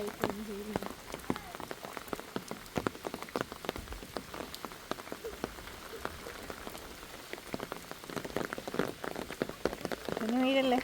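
Heavy rain pours at Thekkady in a continuous, crackling patter of drops on surfaces, steady and fairly close, with a brief voice rising near the end.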